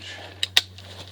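A torque wrench is set to spec during front brake pad and rotor work on a 2005 Chevy Cobalt, giving two quick, sharp metallic clicks close by over a low steady hum.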